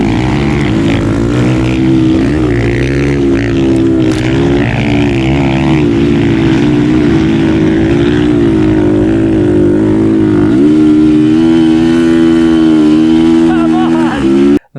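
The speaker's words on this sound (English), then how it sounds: "that DR200 was barely making the hills" Suzuki DR200 motorcycle engine labouring while climbing groomed hills, a loud, steady buzzing drone with slight pitch wavers, close and continuous for the whole stretch, with speech mixed in.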